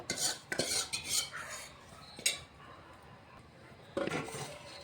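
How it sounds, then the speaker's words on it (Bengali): Flour and salt mixed in a dry pan for chitoi pitha, quiet scraping and clattering of a utensil against the pan in short bursts with pauses between. "এটা শুকনো খোলাতে ভালো করে মিশিয়ে নেব।"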